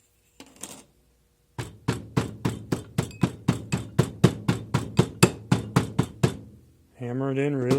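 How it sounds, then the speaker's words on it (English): Casting sand being packed into a mold for red clay casting with a hammer or the end of a mandrel: a close, steady run of about seventeen sharp, evenly spaced blows, with a voice briefly before and talking right after. "Hammer it in really good. You can use a hammer."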